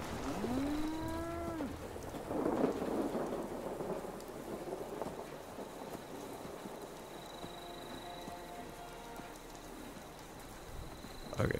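Thunderstorm ambience with steady rain and rolling thunder in the post-apocalyptic game Fallout 76, a continuous wash of rainfall with some tonal game sounds and animal-like calls at the start.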